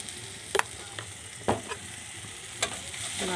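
A spoon stirs salted food frying in a pan in a Bengali home kitchen, giving a few sharp scrapes and taps over a steady low sizzle, close and moderately loud, with no talking.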